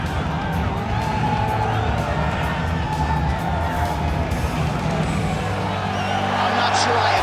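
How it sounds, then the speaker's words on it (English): A simulated arena crowd at the Bell Centre in Montreal roars in UFC 5 during a middleweight bout, a loud, sustained wall of cheering and shouting that builds slightly toward the end. "I'm not sure I have ever heard a louder crowd in any arena in the world than this here Bell Center in Montreal"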